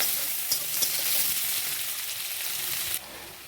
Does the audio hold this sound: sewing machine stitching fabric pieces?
no